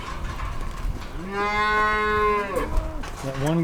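A cow on a farm moos loudly and close by, one long drawn-out call followed by the start of another, over a low background of pen noise with no voices.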